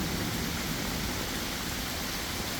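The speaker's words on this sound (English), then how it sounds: "sitting out at the pond, listening to the rain, the waterfalls," Steady rain pours over an outdoor koi pond with waterfalls, a dense, even hiss of drops on water and surfaces that stays constant and close throughout, with no voices.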